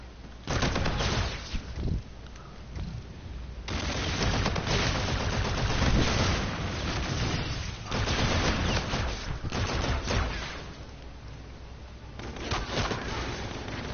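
Sustained bursts of automatic gunfire from Call of Duty: Infinite Warfare gameplay, loud and continuous with brief lulls between volleys, layered rapid shots filling most of the stretch.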